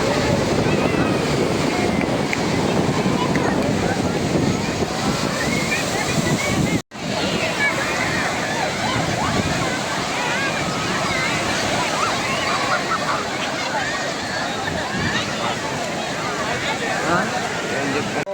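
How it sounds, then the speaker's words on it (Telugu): Ocean surf rolls in at RK Beach in Visakhapatnam with strong wind buffeting the microphone, a loud continuous wash of waves broken by one brief dropout midway. "ఇది విశాఖపట్నంలోని ఆర్కే బీచ్."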